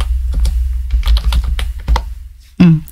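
Close, loud clatter of typing on a computer keyboard: a quick irregular run of keystrokes ending with one heavier key press.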